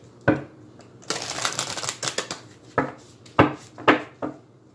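A deck of cards riffled once in a quick burst of fluttering snaps, followed by a few separate taps and knocks of the cards being squared up.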